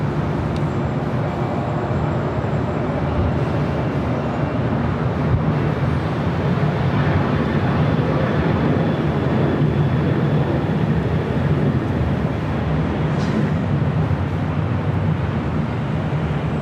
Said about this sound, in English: Flexport Queen heading to Hong Kong, 747-400 freighter flight 8350 lining up will be a south side takeoff.